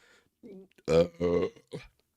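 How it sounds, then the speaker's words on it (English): A man burps on command, several short guttural belches in a row at close range, with no other talk. "I could just burp on command anyway when I want"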